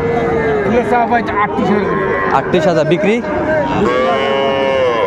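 Young bulls and heifer calves at the Ambari cattle market in Dinajpur moo in loud, drawn-out calls, several overlapping at close range, while people talk and a crowd murmurs throughout.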